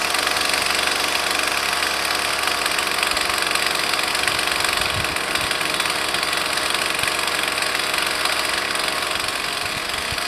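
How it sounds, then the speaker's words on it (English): A Husqvarna 128 two-stroke string trimmer runs steadily at idle after a seized-engine repair, a loud continuous buzzing drone with a faint knocking undertone that holds level for the whole stretch, close by and with no talk. "first I'm gonna idle it down a little bit"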